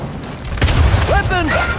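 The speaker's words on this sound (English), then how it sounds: "Every bomb's about to blow!" Bombs exploding in the video game Gears 5, a heavy booming blast near the start followed by a sustained rumble, with a voice calling out over it.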